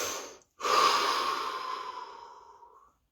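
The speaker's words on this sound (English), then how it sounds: "Take a breath." A single deep breath drawn in during a guided relaxation exercise, a short pause, then a long, steady exhale that fades out over a couple of seconds, close and alone.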